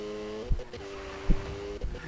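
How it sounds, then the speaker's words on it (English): A Mercedes-AMG GT V8 engine in a video game holds a steady drone, with three sharp low thumps breaking in at intervals and faint mechanical whine above. "Like if you had like a V8 powered Benz, you would know what that sound is."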